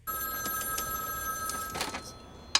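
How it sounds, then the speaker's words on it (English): A telephone bell rings in a steady trilling burst indoors, fairly loud and close, cut off by a sharp knock near the end. "Stuart finishes his call and then the phone rings"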